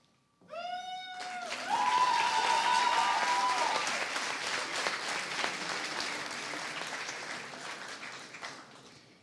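At a Budapest bilingual high school's 2015 ribbon ceremony, a large audience breaks into sustained applause after a brief tonal sound; the clapping swells quickly, holds steady, then gradually thins out.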